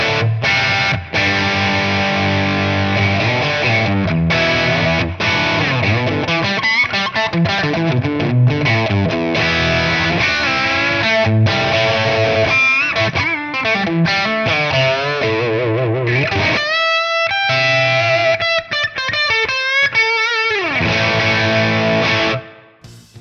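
An electric guitar played through a Tone King Royalist MkIII amp capture in ToneX, with heavily distorted chords and riffs, loud and sustained, ending in sliding bends and a final ringing fade, with no talk.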